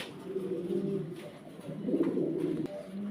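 Pigeons at a farm coo in soft, low, throaty bursts, several birds overlapping close by with a faint background hum.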